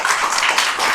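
A church congregation claps together in a dense, steady burst of applause that fills the room for about a second, with no speech.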